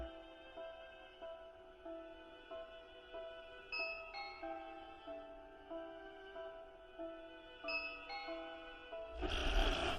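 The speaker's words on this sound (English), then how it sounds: "I had connected the doorbell to my gaming station." An electronic doorbell wired to a gaming station plays a repeating melodic chime: clear, bright tones in a steady looping pattern, fairly soft and alone. A brief noisy burst cuts in at the very end.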